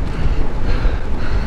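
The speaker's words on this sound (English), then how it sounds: "Cold, windy, and a headwind." Cold, strong headwind buffeting the microphone outdoors, a loud continuous low rumble with gusty fluctuations and no talk.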